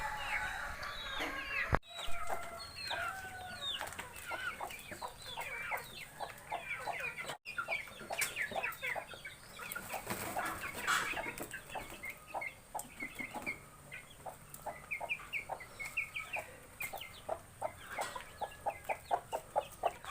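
Many chickens and chicks clucking and chirping nearby in a coop, a busy, continuous chorus with brief sharp knocks.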